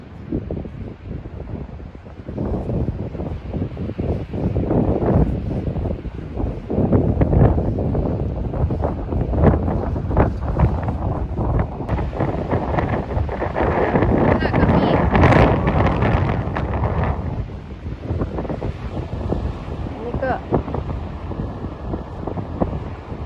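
Strong seaside wind roars and buffets the microphone continuously beside fields of flowering rapeseed, a heavy low rumble with gusts, while a person talks intermittently underneath.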